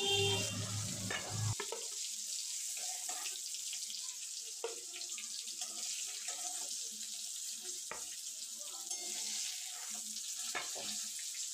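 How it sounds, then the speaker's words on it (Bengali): Pointed gourd (potol) frying in hot oil in a pan, a faint steady sizzle and crackle with occasional soft clicks of a utensil, close and quiet with no talking. "আমার পটলগুলো প্রায় ভাজানো কমপ্লিট।"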